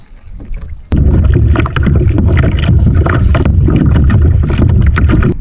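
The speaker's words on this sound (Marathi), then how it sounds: "ती बघा एक बोट समोरून चालली" A boat motors along a backwater, a loud, steady rumble with heavy wind buffeting the microphone after a quieter opening.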